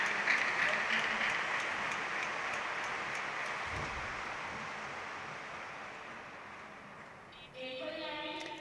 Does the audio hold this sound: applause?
yes